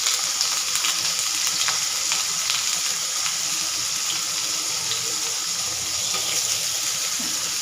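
Paneer cubes fry in hot oil in a pan for smoked paneer angara, giving a steady, loud, dense sizzle that crackles without a break and with no voices.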